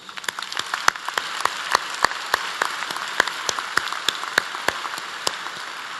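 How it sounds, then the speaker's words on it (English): Scattered, sparse clapping from a commencement audience at UNC Charlotte's spring ceremony, individual sharp claps ringing out distinctly at a moderate distance with no voices. "please join me in a round of applause for all these dedicated servants of the university."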